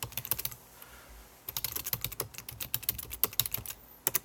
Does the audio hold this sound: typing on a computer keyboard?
yes